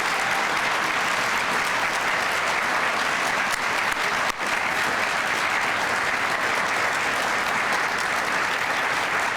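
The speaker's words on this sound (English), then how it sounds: "I'd just like one more round of applause, please" An awards ceremony audience claps steadily for several seconds, a dense, continuous wash of applause with no pauses, heard close and full in the hall.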